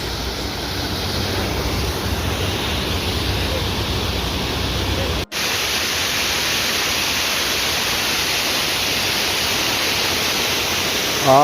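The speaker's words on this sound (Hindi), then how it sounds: "ये वही झरना है जो सामने से दिखाई देता है और कम से कम 1 किलोमीटर ऊपर से यह गिरता है" A tall waterfall dropping roughly a kilometre down a rock cliff near Rambara on the Kedarnath route, heard up close as a steady, loud, broadband roar that stays constant throughout, with one momentary dropout midway.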